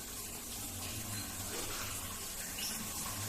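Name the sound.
Toshiba water heater pump switched on, water flowing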